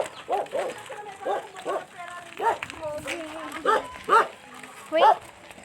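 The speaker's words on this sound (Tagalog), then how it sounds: "Gago may aso." A dog gives several short barks and yips, most of them bunched toward the end and fairly close, while people talk over and between them.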